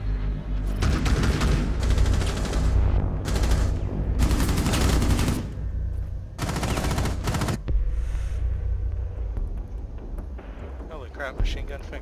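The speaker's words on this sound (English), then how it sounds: "Machine gun" Rapid machine gun bursts crackle in Rainbow Six Siege on the Coastline map, loud volleys repeating in clusters with short pauses between, with faint voices mixed underneath.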